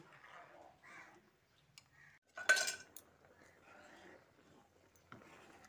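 A spoon clinks and scrapes in a pot as milk payesh made with powdered milk is stirred, giving scattered quiet metallic taps with one louder clatter midway, near and otherwise calm.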